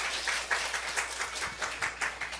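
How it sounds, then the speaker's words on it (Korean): A church congregation claps together during a Korean Sunday service, a soft, fairly distant patter of many hands lasting a couple of seconds. "그렇게 하실 하나님께 박수 올려드립니다."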